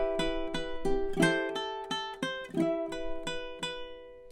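A high G ukulele picks out the opening melody of The Wellerman, steady evenly spaced plucked notes ringing close and clear with no voices over them.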